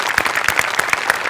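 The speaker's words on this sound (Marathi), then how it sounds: "आर्ट डिपार्टमेंटसाठी एकदा जोरदार टाळ्या" A studio audience on a Marathi comedy show claps loudly for the art department, with sharp, fairly rhythmic bursts of many hands at close range.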